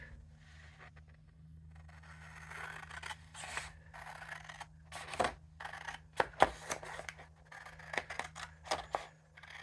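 Scissors snip through paper card stock in a string of short, quiet cuts that grow busier toward the end, with light paper rustling between snips.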